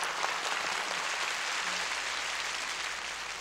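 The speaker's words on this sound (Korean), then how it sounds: "다시 한번 많은 박수를 부탁을 드리겠습니다." A studio audience at a televised Korean song show applauds warmly for two performers, a dense wash of clapping that holds steady and eases slightly toward the end.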